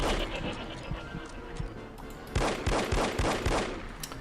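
A spread-shot weapon in No One Lives Forever fires a quick string of sharp, punchy shots, about half a dozen in steady rhythm near the end, following a few scattered earlier blasts amid game noise.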